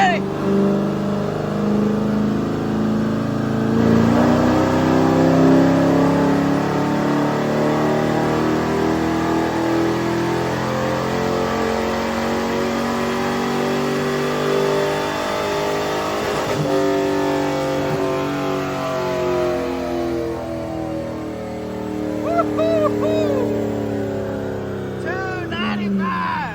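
A 1999 C5 Corvette's LS1 5.7-liter V8, running on a JB Weld head gasket, revving loudly and steadily up and down through sustained throttle, close and dominant, with talk over the engine.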